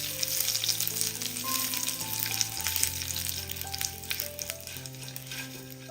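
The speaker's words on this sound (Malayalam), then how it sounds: "കടുകെല്ലാം ഒന്ന് പൊട്ടിയതിന് ശേഷം ഒരു 3 വറ്റൽമുളക് ചെറുതായിട്ട് മുറിച്ചതും കൂടി ഇട്ട് കൊടുക്കാം." Dried red chillies, curry leaves and mustard seeds fry in hot oil, giving a steady close sizzle with crackles and popping throughout as the tempering is stirred.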